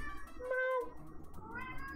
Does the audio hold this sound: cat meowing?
yes